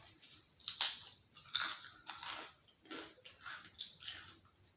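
Barbecue-flavored Pringles potato chips eaten close up: several sharp crisp bites followed by rhythmic crunchy chewing, fading into softer chews.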